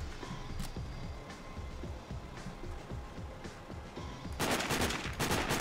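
Enemy gunfire in the Sniper: Ghost Warrior video game: sharp shots crack over steady background noise, then a louder, rapid burst of fire near the end, with no voices.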